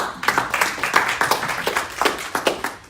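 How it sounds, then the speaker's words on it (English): A small audience at a startup event claps for a presenter, with distinct individual claps in an uneven rhythm that sounds close and fairly sparse for about three seconds. "So let's give Rod a round of applause."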